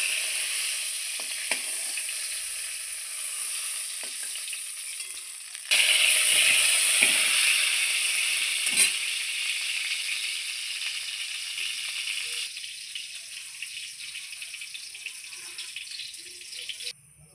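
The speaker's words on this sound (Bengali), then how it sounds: "আমার পটল লাল লাল করে ভাজা হয়ে গেছে" Pointed gourd (potol) fries in hot oil with a steady, close hiss and crackle that swells louder partway through, then settles into a softer continuous sizzle.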